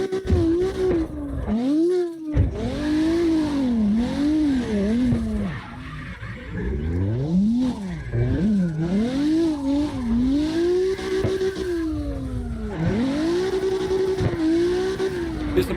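Cars drifting in CarX Drift Racing Online on the Navaro Base A map: continuous loud tire squeal with rising and falling screeches, roaring engine revs and a brief cut, sustained close throughout with no talking.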